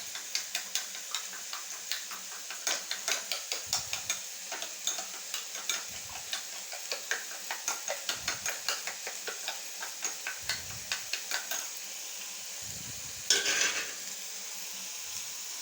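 Eggs with a little pepper being stirred and fried for an egg kothu parotta: a steady sizzle under a fast run of metal-spatula clicks and taps against the pan, with a brief louder scrape near the end.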